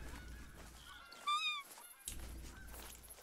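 Canada geese in the hunting game theHunter Call of the Wild give a short, clear burst of nasal honks against steady background ambience, fairly faint and at middle distance.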